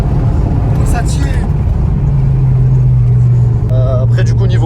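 A 2015 Renault Megane 3 RS phase 3 stage 1 sports hatchback engine pulls hard under acceleration, a steady loud low drone from inside the cabin with speech over it.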